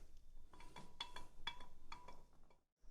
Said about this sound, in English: and then just give it a stir.